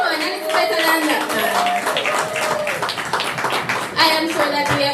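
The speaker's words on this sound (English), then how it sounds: "Can we have a round of applause for our master?" An assembly claps and cheers at a high school retired-staff award ceremony. The applause is loud and sustained, with voices calling out and chattering over it and a brief swell near the end.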